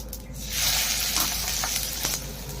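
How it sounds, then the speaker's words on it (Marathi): Cumin seeds and finely chopped garlic hit hot oil while making a chilli soya Manchurian, giving a loud, close hiss that swells quickly and keeps sizzling steadily. "इथं तेल गरम झालेलं आहे, यात मी जिरे टाकत आहे, बारीक चिरलेला लसूण"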